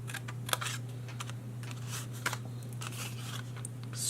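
Paper being scored and cut with a blade for a handmade shaker box card, a series of brief light scratchy strokes and snips in a quiet room, with a steady low hum underneath.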